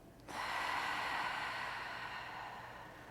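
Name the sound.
deep breath in and big exhale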